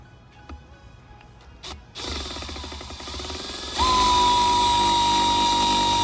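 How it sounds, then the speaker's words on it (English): A drill with a 7/64 bit cuts a rivet hole for a carbon fiber ram air intake on a Sea-Doo RXT-X/GTX/RXP-X 300 watercraft. A few faint clicks are followed by the drill whining up, then running louder and steady. "And you get your drill bit. I am using a 7/64 bit to go with the rivet."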